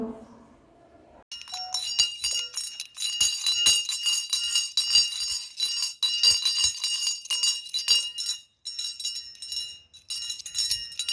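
A school's first bell rings on September 1st in a Ukrainian village, marking the start of the 2022–2023 school year, a bright continuous metallic jangle with brief pauses, loud and sustained for about ten seconds after a short spoken moment.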